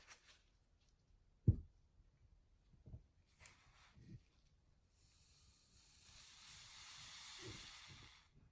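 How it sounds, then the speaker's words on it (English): Lubricant spray can spraying into an NSK Surgic Pro handpiece, a steady faint hiss of a few seconds coming after scattered soft clicks and handling knocks. "Hold it upright and spray the lubricant for 2 to 3 seconds."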